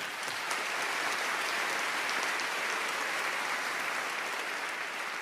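Audience applauding at a church talk, a dense steady roar of many hands clapping that holds evenly throughout without voices.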